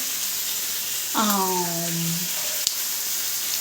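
Food frying in a pan in a home kitchen, a steady close sizzle and hiss running throughout, with a brief rising-and-falling voice-like tone partway through.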